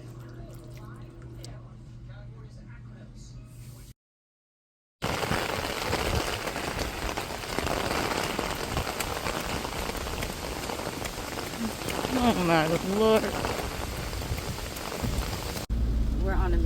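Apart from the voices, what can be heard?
heavy rain falling outside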